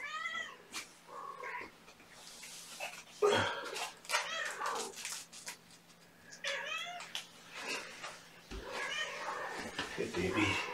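Several kittens meow repeatedly in high, insistent cries, close and fairly quiet, with a person speaking softly between them.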